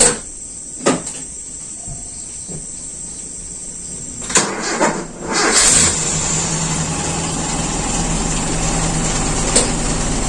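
A car's starter cranks a cold engine, preceded by clicks and thumps, then the engine catches around the middle and settles into a loud, steady idle running alone to the end.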